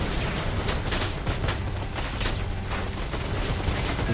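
Dense, muffled gunfire rattles through a smoky firefight in Predator: Hunting Grounds, a steady stream of loud bursts and booms with no clear gaps across the few seconds.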